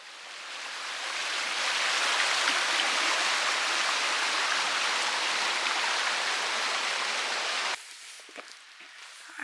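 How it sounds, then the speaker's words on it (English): Heavy rain falls in the forest of Olympic National Park, a steady, dense, close hiss that builds slightly and holds evenly before dropping away abruptly near the end, with no talking. "It actually rains 140 to 170 inches of rain here."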